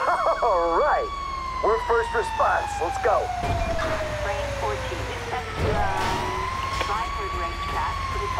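An emergency vehicle siren in Grand Theft Auto V wails steadily with sweeping rising and falling tones, loud and close, mixed with engine and traffic noise while people talk over it.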